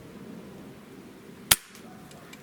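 A single sharp crack from a JTS Brawn air rifle, close and loud against a quiet background.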